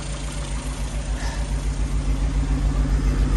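A restored Fiat 1100D engine idles steadily and close by, its low rumbling note pulsing in an even rhythm that grows slightly louder toward the end, with no talk over it.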